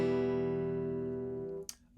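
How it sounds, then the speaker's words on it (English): Single guitar chord strummed with a pick, ringing out clearly and sustaining for about one and a half seconds before being damped, followed by a brief scratchy noise. "Just drag the pick across the strings."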